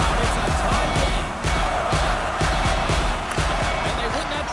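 Hockey arena crowd in the NHL 25 video game, a dense continuous roar of cheering fans with scattered thuds and clacks of play on the ice underneath.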